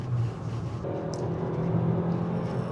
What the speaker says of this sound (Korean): 엔진 사운드도 제법 강하게 토해내면서 힘을 제법 쓰는데요